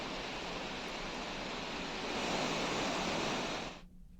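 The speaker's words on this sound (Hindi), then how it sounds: "केदार घाट में जो गंगा नदी है उफान में बह रही है" The Ganga at Kedar Ghat, swollen by heavy overnight rain and flowing in spate past the ghats, gives a loud, dense, unbroken rush of water that cuts off abruptly near the end.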